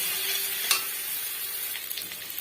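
Spice paste for chital fish muithya sautés in hot oil, a soft continuous sizzle with faint scraping stirs and a small clack from the spoon.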